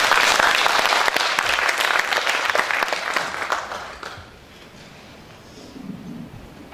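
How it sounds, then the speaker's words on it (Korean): Audience applause at a memorial ceremony for the late president Kim Dae-jung, greeting a lecturer as he comes on; dense, loud clapping for about four seconds that then thins out and fades into quiet room tone. "큰 박수로 맞이해 주시기 바랍니다."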